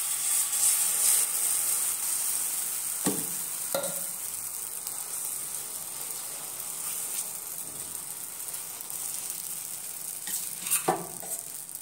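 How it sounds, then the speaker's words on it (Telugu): An oats and vegetable omelette fries in a pan, giving a steady soft sizzle and hiss throughout, with a couple of brief clinks from a utensil against the pan. "ఇప్పుడు మనం దీని మీద ఆమ్లెట్ వేసుకుందాం."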